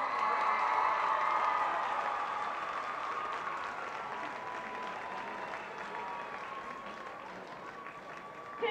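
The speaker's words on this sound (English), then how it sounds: "Can we have one more big round of applause for the 2014 homecoming court?" Crowd applause for the 2014 homecoming court at a high school football game between Edmonds Woodway and Lynnwood, broad outdoor clapping and cheering that slowly fades, with talk faintly underneath.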